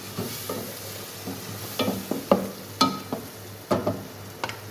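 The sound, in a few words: mixing tomato with fried onion and spices in a pan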